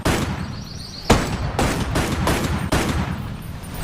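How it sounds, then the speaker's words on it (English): Gunfire from the video game Resident Evil 7: four loud, sharp gunshots in quick irregular succession, each with a booming tail, over a steady background drone. "The gun is not silent. In fact, actually, it's quite loud."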